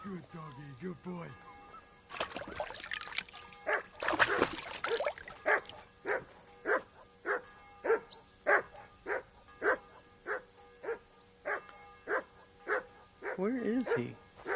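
A dog in the video game Kingdom Come Deliverance 2 barks in a steady series of about fifteen evenly spaced, loud barks, following a brief burst of noise, with someone talking at the start and end.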